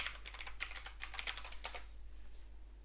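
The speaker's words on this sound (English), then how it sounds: "now we can just type our password." Password typed on a computer keyboard, a quick run of light key clicks close by, then tapering off into quiet room hum.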